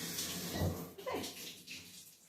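Water from a tap splashes steadily while hair is rinsed, a close, soft rushing that shifts slightly as the stream is moved through the hair.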